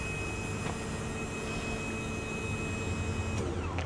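Steady mechanical drone of a wheelchair lift raising at the back of a 2018 Ram ProMaster Tempest X mobility van, a constant motor hum and whine with a faint click near the end, no talking.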